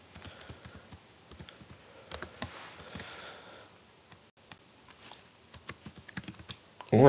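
Rapid typing on a computer keyboard during a beginner coding lesson, with irregular bursts of light clicks and brief pauses, fairly close and alone without talk.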